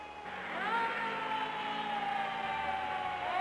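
A 40-ton fire engine siren wails loudly and steadily, its pitch sweeping up and down with no voices present.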